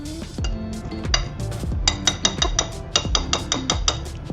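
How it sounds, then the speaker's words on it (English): Wire whisk clinking and tapping against a bowl as salt, baking powder and flour are stirred together for an orange olive oil cake, a quick run of bright metallic clicks in an uneven rhythm, close and alone. "Just gonna whisk this up, make sure it's all incorporated."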